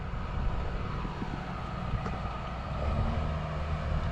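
A tractor cultivating a paddock ahead of turnip planting, its engine giving a steady, fairly close low rumble that holds for the whole stretch, with no talking.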